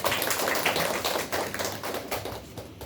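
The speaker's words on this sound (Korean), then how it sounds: "원장님께 박수 한 번만 부탁드립니다" An audience at a Korean school program information session applauds, a dense, steady patter of many hands clapping together for about three seconds and then tapering slightly.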